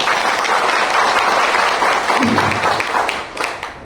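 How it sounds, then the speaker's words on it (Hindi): A crowd at a company foundation day gathering applauds two honored guests; thick, continuous clapping from many hands, loud and even, easing off only slightly near the finish. "सबसे पहले तो दोनों के लिए, ऋषि सर और रिंकू सर के लिए ताली होनी चाहिए"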